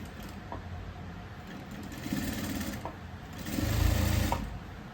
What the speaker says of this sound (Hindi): मैं यहाँ से इसकी सिलाई करूँगी।